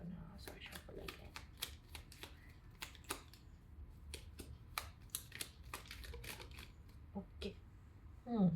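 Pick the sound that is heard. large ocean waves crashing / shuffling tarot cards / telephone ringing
shuffling tarot cards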